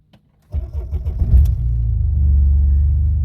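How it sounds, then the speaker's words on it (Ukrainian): Mercedes W203 2.2 CDI diesel engine cranking briefly on a cold night after glow plugs preheat, then catching on the first try and settling into a steady, loud, close idle rumble. "І автомобіль запускається з першого разу."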